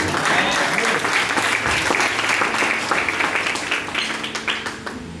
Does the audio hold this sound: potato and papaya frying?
no